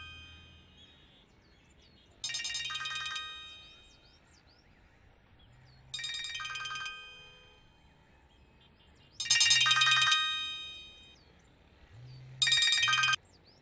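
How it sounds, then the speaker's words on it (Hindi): A mobile phone ringtone plays in four repeated electronic bursts, each lasting about a second, with short quiet gaps between them. "तुम्हारा फोन बज रहा है।"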